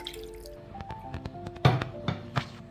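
Rinse water from a blender is poured into a cooking pot holding chicken for jollof rice, giving soft, close splashes and scattered drips, quiet and without talk.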